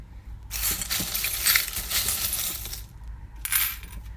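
Charms and dice cast for a zodiac love reading make a bright, rattling clatter that spills out for about two seconds, then a second shorter clink and tumble follows, close and clear with no talk.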